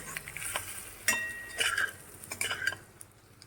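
Egg curry masala being stirred in a pan, with light metallic clinks and scrapes of a spoon against the pan, a few sharp taps standing out over a quiet kitchen background.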